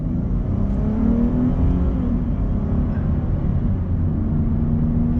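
A 2012 Dodge Charger SE V6 with 150,000 miles spins its tires, a steady loud rumbling engine roar and rising whine running the whole time without a break, with no voices.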